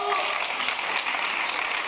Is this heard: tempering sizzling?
no